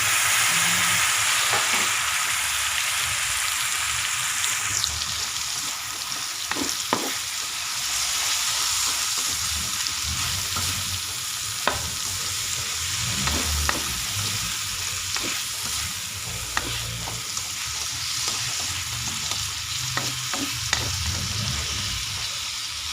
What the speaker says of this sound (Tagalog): Ang aking sitaw at saka okra lagay na natin.